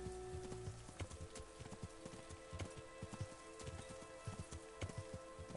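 A horse's hooves clip-clop steadily up a small hill in Kingdom Come: Deliverance, quiet and mid-distance against faint background ambience.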